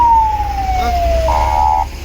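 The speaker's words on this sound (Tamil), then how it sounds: "ஆம்புலன்ஸ் வர முடியாமல் நின்றுட்டுருக்கு" A loud, close ambulance siren wails at an L&T toll gate in traffic, first a long falling tone and then a steady held note, with engine hum beneath.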